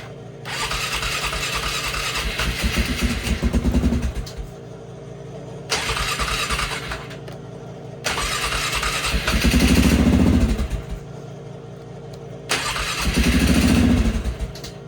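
Polaris Sportsman 500 ATV, previously flooded, cranking in repeated starter bursts with a whirring motor and rising engine rumble at the end of each attempt, loud and close, with short gaps between tries.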